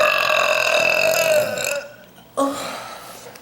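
A long, loud burp from a woman after drinking a cold Rockstar diet energy drink, sustained for nearly two seconds before trailing off, followed by a short second belch.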